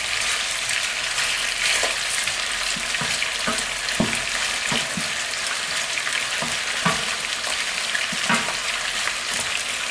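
Paella ingredients fry in a pan with a constant, hissing sizzle, broken by scattered soft clicks and taps of stirring throughout.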